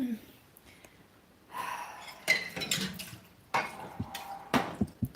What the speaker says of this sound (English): I'm gonna have to wash my pot